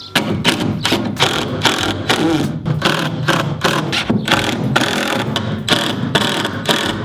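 A tiny house window being unlocked and swung open, a steady run of close mechanical clicks, ratcheting and thumps from the latch and frame, loud and continuous without talk.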